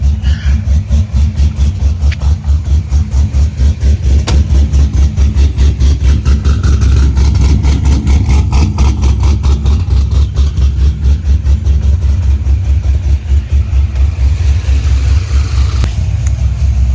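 An LSX-swapped Corvette C6 Z06 V8 idles steadily while warming up, a loud, close, rhythmic low rumble with a lumpy pulse that holds throughout, with a faint rise in pitch near the end.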